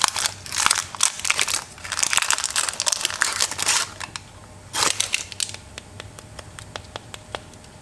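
Crisp baked puff pastry baskets, oven-baked 25 minutes at 200 degrees, crunch and crackle loudly and close up in rapid bursts, with sharp cracking snaps continuing in a steady run throughout.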